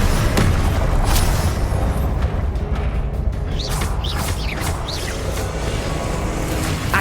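Confringo fire spells blast in the Hogwarts Legacy video game, a loud rumbling boom with crackling debris, followed by softer magical whooshes and chirping effects.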